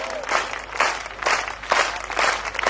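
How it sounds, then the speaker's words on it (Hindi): Audience at a family wedding-themed comedy poetry show claps in several rising and falling bursts, loud and close, swelling and easing over nearly three seconds with no voice on top. "अपने लिए बजा दो तालियों"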